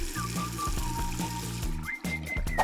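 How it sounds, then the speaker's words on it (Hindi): Water pours steadily into a small mini pool, a soft running splash beneath louder tonal sound that carries on throughout. "हमें सिर्फ इसे पानी से भरना होगा।"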